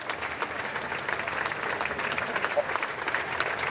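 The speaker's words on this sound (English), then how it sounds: "applause echoes as he leaves and heads towards Buckingham" Applause from a crowd in a London street greets the departing prime minister as he leaves Downing Street, steady dense clapping echoing at moderate distance without a break.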